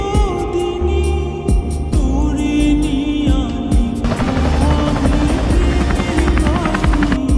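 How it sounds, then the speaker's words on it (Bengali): A helicopter's rotor and engine drone steadily and loudly throughout, a continuous thrumming whine with no speech over it. "আপনার লোকেশনে হেলিকপ্টার পাঠানো হচ্ছে।"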